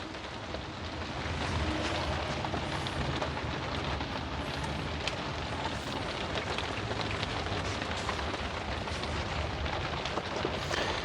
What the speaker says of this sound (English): hear that rain? The rain is a-falling.